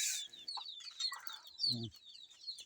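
Chickens clucking in a rural yard, several birds with short overlapping calls and chirps close by, one louder low cluck partway through, no talking.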